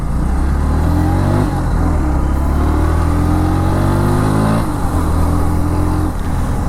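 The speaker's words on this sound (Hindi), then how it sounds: "सो अभी हम थोड़ा पुणे नगरी में घुमाएंगे गाड़ी, चेक करेंगे इसकी एबिलिटीज़" A 2024 Bajaj Pulsar NS 125 motorcycle with a 125 cc engine, ridden around Pune, revs up loud and close, its engine pitch climbing and dropping in repeated surges with no talk over it.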